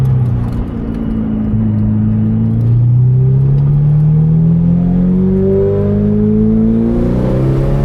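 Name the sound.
Ferrari 488 Pista with Kline Inconel exhaust accelerating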